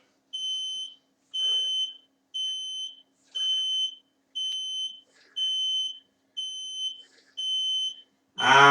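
A workout interval timer beeping, eight evenly spaced high electronic beeps about one per second, clear and close, ending with a brief burst of voice.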